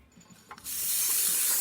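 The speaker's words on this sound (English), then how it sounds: "So starting with the steamer, we're gonna test this machine." A Zacconi espresso machine's steam wand opens with a sudden loud rush, settling into a steady, close, continuous hiss after a few faint clicks.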